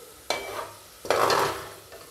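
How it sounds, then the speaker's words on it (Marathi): Onion fries in oil for vegetable biryani, with two bursts of loud sizzling and spatter as it is stirred and lifted, settling to a quieter hiss between them. "हा बघा, असा फ्राय करून घ्यायचा आहे कांदा।"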